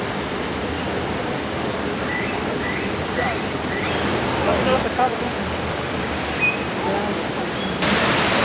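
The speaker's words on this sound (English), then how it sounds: "We have some picturesque falls." Outdoor waterfall at a Las Vegas attraction with koi ponds, a steady broadband rush of falling water filling the scene, with faint crowd murmur and distant voices underneath.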